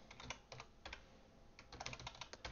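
Keys clatter on a computer keyboard during programming work, coming in quick bursts of close clicks separated by short pauses.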